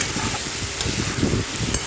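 Meat fries with turmeric in a pan, filling the moment with a dense, steady crackling sizzle, close and fairly loud, with light stirring scrapes and no voices.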